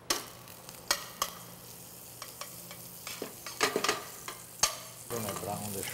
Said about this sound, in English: We're going to brown the shrimp lightly.